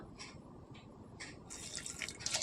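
Water being poured into a pressure cooker holding corn and soaked peanuts, heard as a short run of splashing and trickling that swells toward the end, close and fairly quiet.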